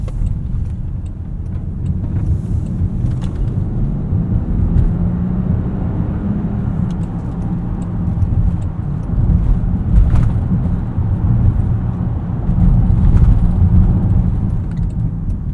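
Cabin of a 2026 Land Rover Discovery Gemini Edition on the move, with a steady deep engine and road rumble that swells and eases slightly, plus faint higher tire and wind hiss.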